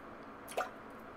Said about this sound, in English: Drip drop, the sounds of drops resonating all around me.